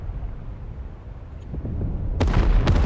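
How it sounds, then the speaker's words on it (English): Battleship guns in the DCS naval battle between Iowa and Yamato class ships, a low rumbling bed followed by sharp booming cracks near the end, loud and abrupt with no talk. "No, there's sonic booms."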